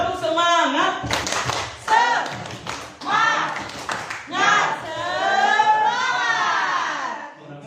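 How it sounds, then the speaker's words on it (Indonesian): A group at a community learning centre performs a rhythmic spirit clap, sharp bursts of clapping in a set pattern alternating with voices chanting and calling in unison. "Tepuk semangat?"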